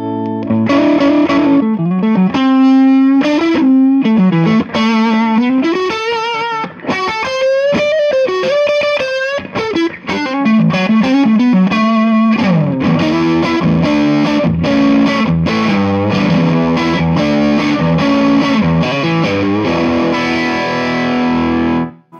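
Heavily distorted electric guitar played through channel two of an El Guapo amp, thick and saturated, with sustained chords and melodic runs, loud and continuous with no talking.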